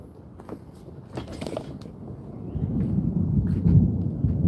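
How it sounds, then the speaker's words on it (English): Thunder rumbles outdoors after a sudden change from a nice day, a low rolling roar that swells and stays heavy throughout, with sharper cracks early on and no talking. "it is thunder"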